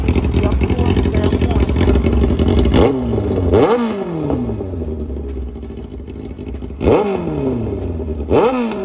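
A Japanese motorcycle with a loud straight-through exhaust, heard close by, is revved hard four times in sharp rising-and-falling bursts over a rumbling idle, with someone talking in between.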